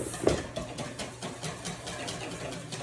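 Flour is whisked into a dairy- and egg-free cake batter in a bowl, a quick regular run of soft tapping and swishing strokes heard up close, with one louder knock near the start and no voices.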